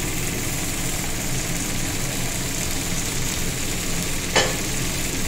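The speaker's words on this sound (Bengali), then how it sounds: "এখন একটু হালকা লাড়াচাড়া করে দেব" Spiced cauliflower and egg curry being stirred in a pan, a steady, even sizzle throughout with one sharp clink of the utensil against the pan near the end.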